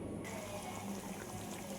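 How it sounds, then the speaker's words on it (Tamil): Tamarind water pours into a pot of garlic curry in a short, continuous liquid stream, soft and close, heard alone without talk. "இன்னும் கொஞ்சம் புளி இருக்குது, அதையும் நான் ஊற்றிட்டு உங்களுக்கு காமிக்கிறேன்."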